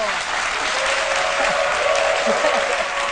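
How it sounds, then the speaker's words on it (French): A studio audience on a French-language midday TV show applauds a comedian, dense, even clapping that holds steady throughout, loud and close. "Docteur Philo, qu'on applaudit très fort"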